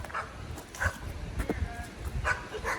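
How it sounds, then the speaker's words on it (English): A dog on a camping trail gives a few quiet yips and whimpers, faint and some distance off, with people talking around it. "Uh-oh, here comes the dog."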